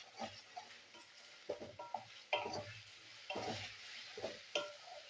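Ginger-garlic paste frying in a pan with onion and potato, with soft sizzling under repeated scraping stirs and clinks of a spoon against the pot, close and moderately quiet.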